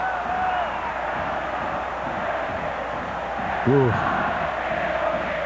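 Football stadium crowd at Boca Juniors versus Arsenal de Sarandí, a broad steady roar from a large crowd rising into a surge after a near chance, with a commentator's voice over it.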